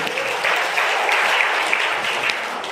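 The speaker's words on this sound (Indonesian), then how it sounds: "Tepuk tangan buat Tuhan Yesus." Congregation applauding inside a church during a Christmas service, a steady dense clatter of many hands that holds evenly throughout without voices.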